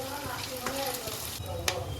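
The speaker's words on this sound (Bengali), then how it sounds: "এবার চাল আমি হাঁড়িতে দিয়ে নাড়াচাড়া করে ভালো করে ভেজে নিচ্ছি" Soaked, drained rice stirred and fried in a pot for polao, a steady close sizzle with scraping stir strokes and a few sharp utensil clinks, no talk.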